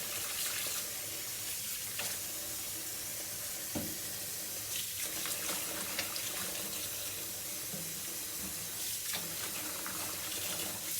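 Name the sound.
water running from tap into kitchen sink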